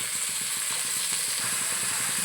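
Cinnamon and cloves frying in a pan with oil for paneer masala curry while being stirred, a steady close sizzle with soft rhythmic scraping from the stirring.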